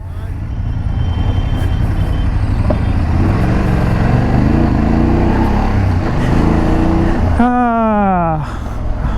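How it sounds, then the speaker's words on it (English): City road traffic in Pragati Nagar, Nagpur, with cars and motorcycles: a constant loud engine rumble under a person talking, then a sharp, wavering horn blast near the end. "Welcome to Pragati Nagar traffic."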